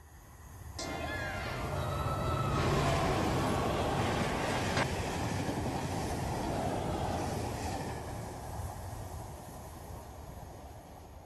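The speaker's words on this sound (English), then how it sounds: "This is what it sounds like when a high-speed train hits a person on a level crossing." A high-speed train roars past at a level crossing, a loud sustained rush with rumbling and rattling that swells and slowly fades over several seconds.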